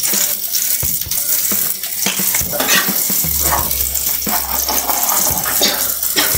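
Fish frying in a pan of spicy red-chili gravy at home, giving a steady close sizzle with occasional stirring and scraping clatter throughout, no voices.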